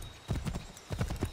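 Hooves of a galloping horse in the video game Assassin's Creed 3 Remastered, a quick run of rhythmic clip-clop beats in two bursts, close and fairly loud with no speech over them.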